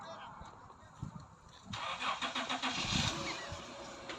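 An Acura car engine cranks over and catches in a brief start, then settles into a steady mid-pitched idle close by, with people talking quietly around it.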